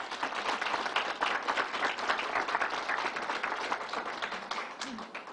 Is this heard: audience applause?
yes